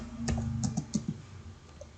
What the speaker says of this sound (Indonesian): Kita ketik di sini petugas.